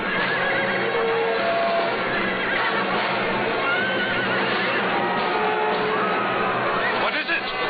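Horses whinnying and neighing loudly in a 1961 historical film scene about stolen horses, several overlapping calls over a dense, busy background with faint crowd and hoof noise throughout.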